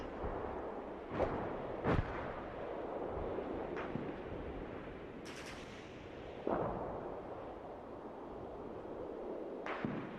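Artillery fire in the Panzer Leader wargame set in the Ardennes: a handful of sharp, separate booms and cracks at uneven intervals over a steady low rumble, moderately distant.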